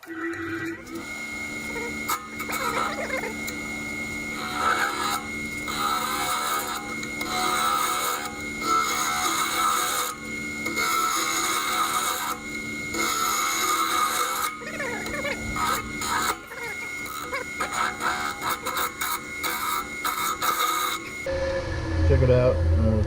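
Cherry burl is turned on a lathe while a tenon is cut on a shift knob, giving a steady motor hum with repeated rasping and scraping bursts from the tool. People talk intermittently.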